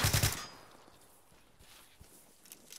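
Video game gunfire in a close-quarters squad firefight: a loud burst of rapid shots at the start, then faint scattered pops and clanks trailing off in the background.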